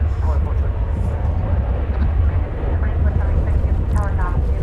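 An Alaska Airlines Boeing 737-900 takes off, its jet engines a loud, steady broadband roar with deep low rumble throughout, heard at some distance outdoors.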